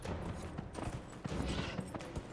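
Horse hooves gallop in a steady, busy clip-clop rhythm in the video game Dragon Age Inquisition, close and fairly loud over a dense game soundscape with no talk.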